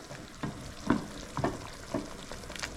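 Cream boiling down into ghee in a hot pan, a steady close sizzle and fry with a few louder bubbling pops and stirring scrapes, no talk.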